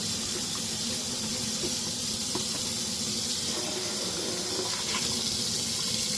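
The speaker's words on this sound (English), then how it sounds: "rinse that down the drain" Tap water running into a sink to rinse paint stripper down the drain, a steady close hiss and splash that continues without pause and without talk.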